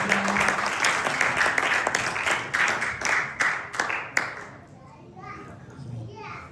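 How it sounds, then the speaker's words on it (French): Church congregation clapping together with broad, dense applause for the first four seconds, then thinning into scattered claps with children's voices and murmuring as it fades. "As he's coming, let's clap for the Almighty God."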